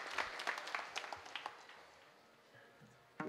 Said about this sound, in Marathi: एकदा टाळी या जोडीसाठी